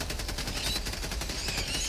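Rapid, dense bursts of airstrike blasts and gunfire in Helldivers 2, a steady barrage of sharp cracks rolling continuously at moderate loudness with no talk.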